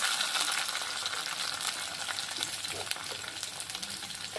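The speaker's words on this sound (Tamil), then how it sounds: "அடுப்பில் ஒரு கடாயை வச்சு எண்ணெய் ஊற்றினேன். எண்ணெய் சூடானதும் பாருங்கள், சின்ன வெங்காயம் போட்டேன்." Small shallots and tomato frying in hot oil in a kadai, giving a steady, dense sizzle with faint stirring clicks, close and continuous with no talking.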